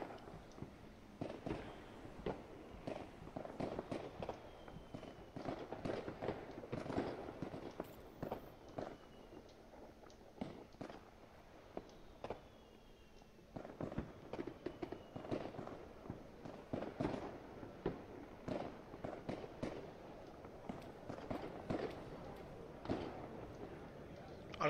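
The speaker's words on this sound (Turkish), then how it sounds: "Arkadaş ne çok havai fişek atıldı ya." Fireworks in the video game Potentia burst over and over, a long run of sharp crackling pops and thuds at irregular intervals, some close and some further off, with a short quieter stretch midway.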